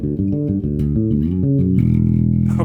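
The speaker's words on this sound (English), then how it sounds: "For the second fill, we're using 5ths," A bass guitar fill built from perfect fifths climbs through quick plucked notes, then settles on a sustained note, loud and close with no talking.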